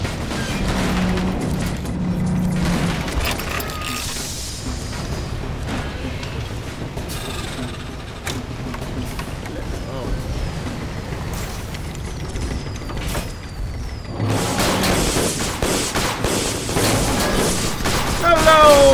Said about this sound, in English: Say hi to fireworks, because fireworks are such a bloody brilliant display right now